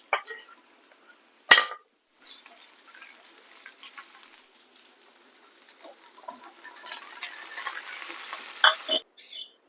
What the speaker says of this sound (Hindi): बस एथिरे परिबा किछि समय मु एमते भाजी देबी, टिके फ्राई हेबा को देबी